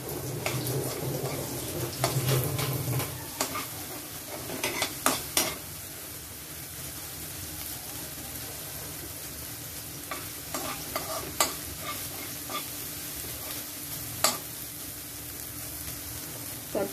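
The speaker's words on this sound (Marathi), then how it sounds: "हे मिश्रण चांगलं परतून घ्यायचं आपण." Spice paste of asafoetida, turmeric and ginger-garlic being stirred and sautéed in a pan for crab masala, a steady close sizzle with scraping spoon strokes, busier in the first few seconds and then softer.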